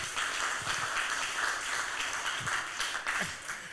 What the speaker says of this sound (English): A round of applause to Mundalo on the other side